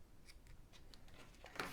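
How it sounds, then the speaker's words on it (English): Scissors snip twine tails on a craft project, several quiet crisp clicks in an irregular rhythm, close and faint, ending in a brighter rustle, with no talking. "some scissors to trim up these little twine"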